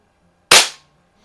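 A Winchester 1977XS multi-pump BB gun fires once after five pumps, a single sharp, loud crack that decays quickly into silence.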